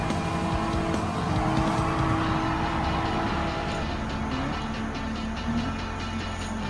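A 2017 Honda NSX in Gran Turismo 7 at Daytona International Speedway, engine held at full throttle, giving a loud, steady, high-revving roar with a slight pitch shift partway through.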